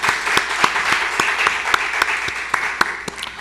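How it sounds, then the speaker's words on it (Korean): Church congregation applauding during Thanksgiving Sunday worship, a steady patter of many hands clapping, with a few sharper individual claps standing out. "찬양할 때 하나님께 큰 박수 영광 돌리겠습니다."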